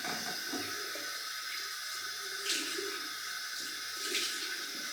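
Water runs from a bathroom tap during a wet shave, a steady close rushing splash that carries on unbroken, with a few brief louder surges of flow.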